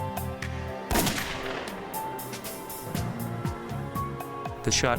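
A single sharp gunshot, fired at a target, cracks out loud and close near the start, followed by a busy, rattling aftermath of clatter and impacts.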